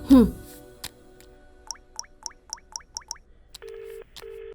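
A loud thump, then a quick run of short electronic dialing tones followed by two longer steady tones as a telephone number is keyed in.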